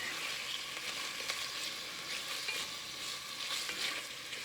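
Bacon frying in a pan and stirred with a spatula while cooking for beef bourguignon, a steady close hiss of sizzling fat with soft scraping stirs, with no talking.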